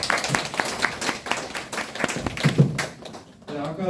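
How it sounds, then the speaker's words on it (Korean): An audience claps in a short burst of scattered, uneven hand claps in a room, fairly faint and mixed with a little background voice. "박수 한번 쳐주세요"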